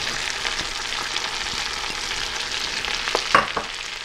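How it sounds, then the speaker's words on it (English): Carrots and onions tossed in hot bacon fat for halushka with braised cabbage, a loud continuous sizzle and crackle with a few clattering stir strokes, no voices. "And the carrots, and toss that in the bacon fat to coat."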